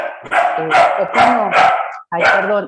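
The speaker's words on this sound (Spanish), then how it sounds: "ese es mi perro" A pet dog barks in a quick series of loud, close yips and barks, overlapping someone talking, with a brief pause before a final bark.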